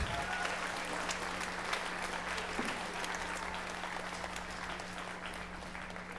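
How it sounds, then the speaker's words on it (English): Audience applause at a middle school 5th and 7th grade spring band concert, a continuous, even wash of clapping from a large crowd, fairly distant and quiet. "would like to give a warm round of applause to Mr. Bonamaze and his great work here in Canfield"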